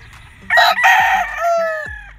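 A yellow-legged gamefowl rooster at a gamefarm crows once, loud and close: a sharp rising start that breaks briefly, then a long sustained call trailing off, over a low background murmur.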